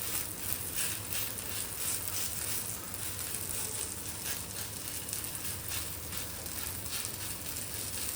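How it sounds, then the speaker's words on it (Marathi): Fasting thalipeeth, a flatbread, fries on a hot tava griddle with a soft, steady sizzle that holds even and faint throughout, with no voices. "हाताने ही थालीपीठं अलगद अशी आपल्याला तव्यावर थापून द्यायची."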